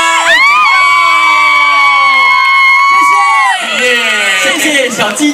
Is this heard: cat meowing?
no